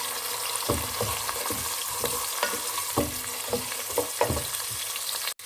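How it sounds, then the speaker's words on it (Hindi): Onions and potato pieces fry in a pan with a constant sizzle, broken by a series of irregular scraping stirs, close and fairly quiet. "जब तक ये प्याज फ्राई होगा जब तक ये आलू भी थोड़े से फ्राई हो जाएंगे"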